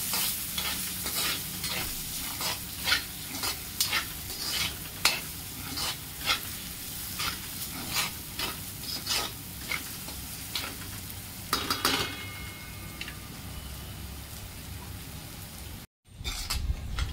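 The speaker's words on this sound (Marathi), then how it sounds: "आता त्यात मी टोमॅटो घालते आणि टोमॅटो सॉफ्ट होईपर्यंत परतून घेऊ" Tomatoes sauté in a masala paste for a street-style paneer sabzi, giving a steady close sizzle and frying hiss broken by repeated scraping stirs of a spoon in the pan, with no talking.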